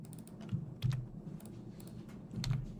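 Short bursts of typing on a computer keyboard, a few quick close clicks and taps over a low hum, with brief pauses between keystrokes.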